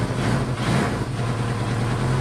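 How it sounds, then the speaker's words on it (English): A freshly rebuilt engine idling slightly high, around 2,000 rpm, a steady low droning hum with a constant even tone throughout, close and continuous. "Probably set the idle a little high"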